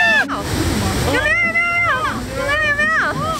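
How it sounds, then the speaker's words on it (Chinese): A Hokkaido waterfall where salmon leap, its steady rushing roar of falling water continuing under excited voices and exclamations close by. "到瀑布了！"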